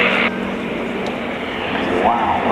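An aerobatic display plane at roughly 200 knots pulls up into the vertical, its engine a steady loud roar that shifts in pitch as it climbs, heard alone without talk.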